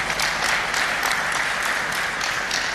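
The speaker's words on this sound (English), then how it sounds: "Please give him a round of applause." A seated audience at a corporate governance event applauds the commission chairman, a dense, steady roar of many hands clapping together without letup and with no talking.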